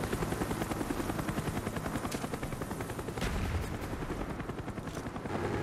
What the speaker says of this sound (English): Counter spy plane up, they're blind.